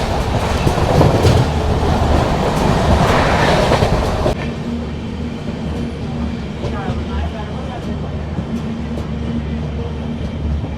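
Passenger train hauled by a goods-train engine, running steadily on rails with dense rumbling rolling noise that drops to a lower, steadier clatter partway through; voices faintly mixed in.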